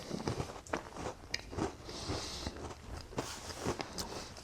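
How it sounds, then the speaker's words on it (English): Crunchy bites and chewing on a Chinese Special Forces Type 2 ration compressed food biscuit, with close, repeated crackling snaps and grinding in an irregular rhythm, no talking. "last bite of your compressed food biscuit."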